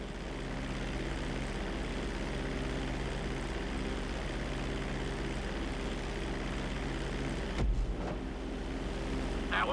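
An airplane flying during flight school in the video game Grand Theft Auto V, a steady, fairly quiet engine drone held throughout with a brief thump near the end.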